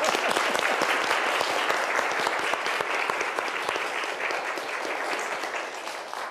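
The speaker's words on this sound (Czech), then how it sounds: "A teď si nachystejte největší potlesk." An audience claps for choir members, children and their parents, a full, sustained round of applause with many distinct hand claps, loud and even throughout before easing slightly at the end, with no speech.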